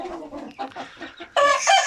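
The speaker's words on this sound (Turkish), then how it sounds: "Şu tavuklar bu Malatyalı tavuğumun yavruları." Malatya chickens clucking in short bursts close by, with a louder, brighter squawk-like burst of chicken calls in the final half second.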